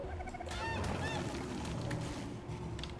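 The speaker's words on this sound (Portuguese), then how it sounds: "É pra eu pegar o Dodô. O frango." Dodo squawking in the survival game ARK Survival Evolved, a run of loud honking, goose-like calls repeating over steady in-game background noise, no talk.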